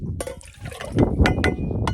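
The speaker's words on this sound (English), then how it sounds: "I always make sure that I get the right amount of water in my cup" Water splashes and trickles into a cup in short gurgling bursts, close by and moderately loud, with faint clinks.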